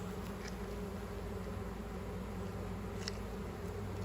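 Honeybees in a hive box give off a steady, faint, low buzzing drone with no one speaking.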